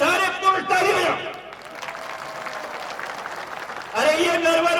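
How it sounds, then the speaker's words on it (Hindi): Men in a crowd at a Vikas Yatra rally in Narwar, Shivpuri, Madhya Pradesh clap together in a steady, diffuse patter of applause lasting a few seconds, with someone speaking loudly just before and after. "अब महिलाएं तालियां नहीं बजाएंगे, सारे पुरुष ताली बजाओ।"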